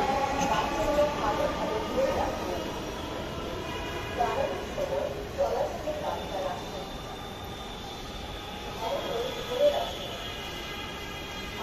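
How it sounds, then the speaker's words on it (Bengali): A metro train pulls out of an evening station platform with a low rolling rumble and faint wheel squeals, moderately loud and steady, while voices carry on in the background. "আমাদের এই ট্রেনটি চলে যাচ্ছে আগারগাঁয়ে"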